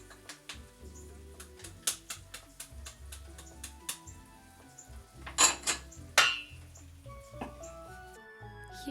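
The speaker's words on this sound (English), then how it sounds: "Now I'm adding the soy sauce and the garlic and letting it cook for a little bit longer." Soy sauce and garlic cooking in a pan for a family recipe, heard as sharp clinks and clatters of utensils against the pan over a faint background sizzle, with a few louder knocks near the end.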